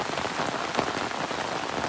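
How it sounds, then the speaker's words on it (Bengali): Heavy rain pours down in a dense, continuous hiss of drops striking surfaces in a rural Bangladeshi village, steady and close, with no talking. "বৃষ্টি অনেক বেশি বৃষ্টি হয়েছে আজকে"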